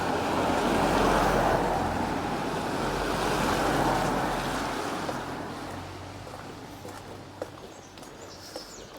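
Flooded river rushing beneath a bridge on the River Waveney, a steady, loud broadband roar of fast-moving water mixed with wind buffeting on the microphone, continuous for the whole stretch with no talk.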